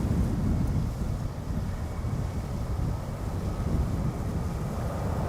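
KLM jet taking off from Schiphol's Polderbaan runway, heard as a loud, steady low roar of engine thrust heavily buffeted by wind on the microphone, continuous for several seconds with no voices.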